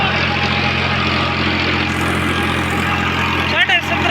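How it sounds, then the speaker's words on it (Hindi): Farmtrac 60 EPI T20 tractor engine running steadily at around 1750 RPM, a loud, constant low diesel hum close by with a brief dip near the end. "साढ़े 1700 RPM पर अब ट्रैक्टर चल रहा है भाई।"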